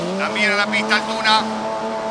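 A Top Race touring car accelerating on the main straight of a race circuit, its engine holding a steady, rising tone in the background while a commentator talks over it.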